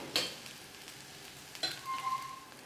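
Dosa frying on a pan in oil and ghee, a faint steady sizzle with a couple of light scraping or stirring clicks.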